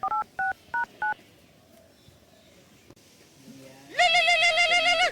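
A phone keypad sounds four short dialing beeps in quick succession, then after a quiet pause a loud, continuous warbling ring tone comes in near the end.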